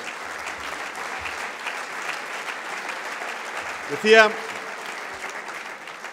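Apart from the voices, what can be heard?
audience applause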